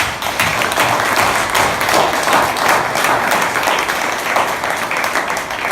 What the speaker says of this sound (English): You deserve a big round of applause for yourself.